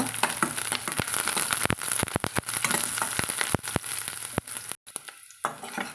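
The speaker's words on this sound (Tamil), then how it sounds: "கருவேப்பிலை சேர்த்துக்கோங்க சேர்த்துட்டு கொஞ்சமாக வதக்கிட்டுக்கலாங்க" Onions and curry leaves sauté in a pan, a loud close sizzle broken by sharp stirring clacks and scrapes, with a brief drop near the end; no talking.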